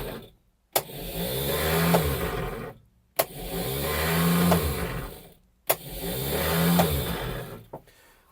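A car starter motor cranking the engine in three separate attempts, each a loud, close whirring churn lasting about two seconds, broken by short silences, with a faltering Bendix drive that fails to catch.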